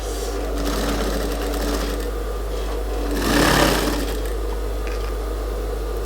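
Stitching a suit, a sewing machine hums steadily and close, with a low constant drone beneath and a short louder surge in the middle.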